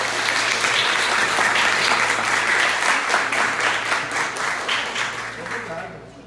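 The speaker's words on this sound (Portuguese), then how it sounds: "a nossa salva de palmas" An audience at a Portuguese-language lecture gives a dense, sustained round of applause that holds steady for several seconds and then begins to taper off at the end.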